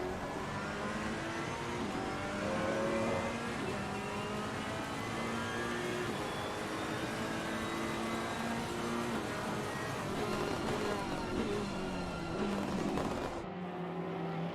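A GT3 race car engine in the Assetto Corsa Competizione racing game revs continuously through gear changes, held loud and close for the whole stretch before cutting out near the end.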